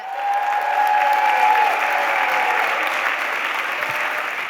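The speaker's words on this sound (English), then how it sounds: "round of applause to Darcy Lynne." An audience at a live storytelling show claps for performer Darcy Lynne, a sustained, evenly loud round of applause with a brief tonal sound near the start.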